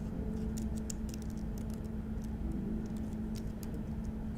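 Computer keyboard typing in a few quick, light key clicks, faint over a steady low hum, with no talk.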